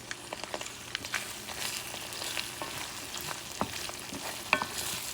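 Cilantro sizzles and fries in a pan for breakfast tacos as a spoon stirs it, with a steady close crackle broken by soft scraping strokes and light knocks against the pan.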